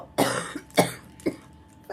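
Three separate coughs from one person, close and fairly loud, with short pauses between them and no talk around them.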